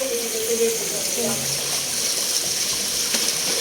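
Cold spring water flowing and splashing in a steady, close wash of rushing sound, with a voice talking briefly in the background near the start.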